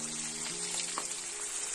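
Chopped onion hitting hot oil in a frying pan, a steady close sizzle with a faint crackle, no talking.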